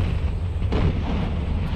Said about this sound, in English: So these 6-pounders did get a volley off